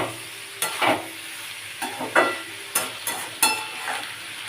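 Onion stalks fry in hot oil in a pan with a constant sizzle, while a spatula scrapes and stirs in short bursts about once a second, close and fairly loud, with no talking.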